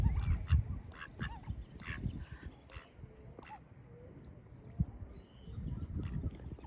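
Ducks quack in scattered short calls at a moderate distance, with a person talking softly and outdoor rustling underneath.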